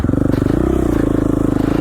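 An off-road motorcycle on a single-track mountain trail in Idaho, its engine thumping in a fast, rapid pulse close to the microphone, the pitch rising slightly as it picks up speed, with no talking.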